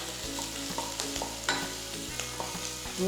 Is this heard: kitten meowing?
no